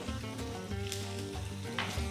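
Diced carrots hit a hot pan for Spanish-style smoked paprika beef, giving a steady, moderate sizzle close by with faint stirring ticks, alone without talk.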